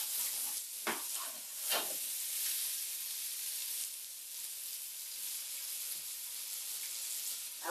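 Turkey neck and giblets searing in a pan with butter, a steady bright sizzle throughout with a few louder spits and crackles, close and alone without any talk.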